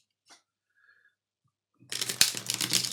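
Tarot cards are shuffled up close, heard as a dense, crisp riffling rush that starts abruptly after a near-silent pause with a few small ticks.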